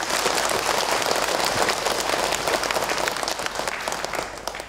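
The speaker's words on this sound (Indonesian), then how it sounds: "Tepuk tangan" A studio audience at an Islamic religious talk show applauds loudly and continuously, dense clapping throughout with a slight taper toward the end.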